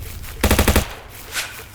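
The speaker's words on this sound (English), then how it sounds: "Okay, a machine gun to the left." A rapid machine-gun burst of about six shots fires close and loud in the video game Scrolling Battles Pro, followed by quieter game background.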